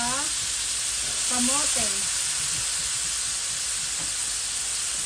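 Sliced potato and sweet potato sizzle steadily in a hot pan for fresh lumpia, a continuous frying hiss with a voice speaking over it at the start.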